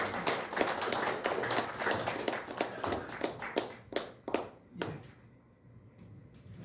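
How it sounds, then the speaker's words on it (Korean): A room of people claps in steady applause, the clapping thinning out into a few scattered claps before fading away. "박수로 환영해 주시기 바랍니다"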